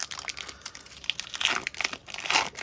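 Foil wrapper of a Pokemon TCG Journey Together booster pack crinkling and tearing up close, a continuous dense rustle with brief louder rips and no talk.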